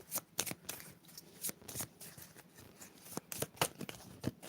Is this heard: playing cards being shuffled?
yes